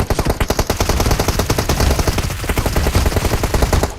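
Automatic gunfire from the PUBG Mobile video game, a loud, continuous burst of rapid shots that keeps the same rhythm throughout.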